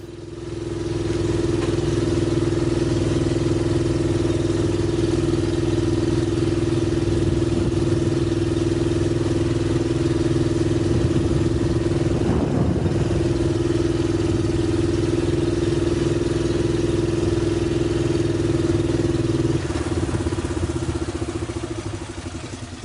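A hydrogen-fuelled vehicle engine runs steadily, a continuous loud mechanical hum and rattle that holds without pause for over twenty seconds, with no talking.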